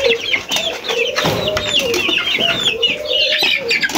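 Young chicks being given feed, with close, busy clucking and cheeping calls overlapping in quick irregular bursts, the birds heard on their own without voices.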